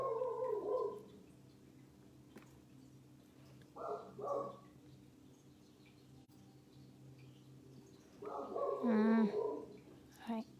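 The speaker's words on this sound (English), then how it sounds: "Silly dog." A dog gives short, muffled barks and whines in three bursts indoors, close by, separated by quiet stretches.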